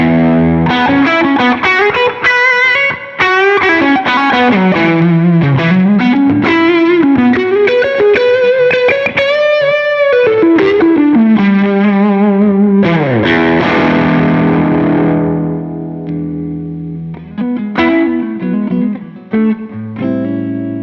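An electric guitar driven through a fuzz pedal into a Line 6 Catalyst 100 amp plays a loud, heavily distorted melodic line with bends and sustained notes, then a thick chord that rings out, with no talking.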